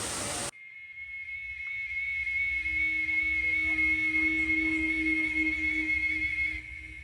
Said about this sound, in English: I have another jungle sound.